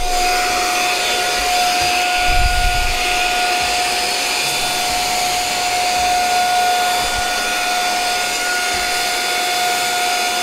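A Brigii M1 mini handheld vacuum runs steadily while sucking up seeds. Its loud, constant high-pitched whine has a brief low rumble near the start and no speech.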